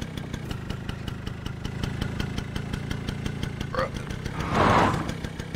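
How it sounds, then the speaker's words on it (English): A car engine idles in a video game, a steady loud low rumble with regular pulsing, interrupted near the end by a brief louder burst. "Instead, we're turning on a loud-ass car?"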